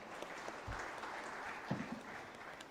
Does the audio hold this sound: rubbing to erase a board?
no